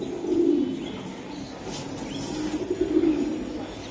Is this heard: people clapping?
no